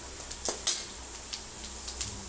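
Chopped mushrooms and onion frying in a pan, with a steady close sizzle and a few light clicks and scrapes of a spatula stirring.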